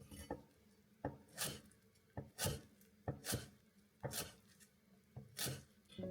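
A knife chops broad-leaved wild greens finely on a cutting board with repeated knocking strikes, roughly one each second in a steady rhythm. Scraping follows some of the strikes, heard up close without talk.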